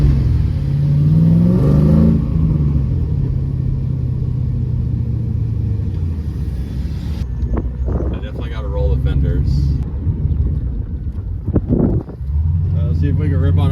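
A Nissan 240SX pulls hard under acceleration, its engine droning loud and rising from inside the cabin before shifting and building again, with brief voices over the rumble.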